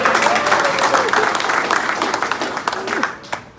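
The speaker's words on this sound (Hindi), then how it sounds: "चलो बहुत जोरदार ताली बजाइए।" A live comedy audience breaks into loud, continuous applause, dense clapping that fills the whole stretch and slowly thins toward the end, with faint voices in the crowd.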